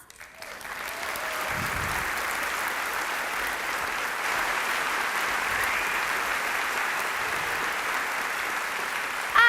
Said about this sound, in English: let me hear that commitment by giving yourselves a round of applause